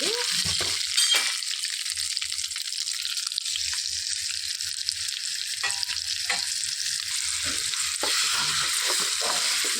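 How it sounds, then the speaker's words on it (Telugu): Fenugreek-leaf chutney stirred into a hot oil tempering of dried red chilli and curry leaves, a loud steady sizzle and crackle lasting throughout, with occasional scraping stirs close by. "కరివేపాకు వేసుకొని బాగా కలిపేసుకొని ఈ పచ్చడిని ఇందులో వేసుకోవాలండి."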